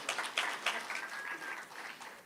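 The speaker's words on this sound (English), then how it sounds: "Now you can clap." Faint, scattered clapping from a small workshop audience, a short patter of a few hands with a thin whistle-like tone running through it.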